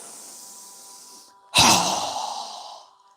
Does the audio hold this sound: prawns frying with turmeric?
no